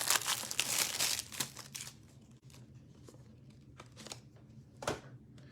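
Plastic card top loaders being opened, their packaging crinkling and crackling in bursts, loudest at first and then in sparse, scattered rustles at close range.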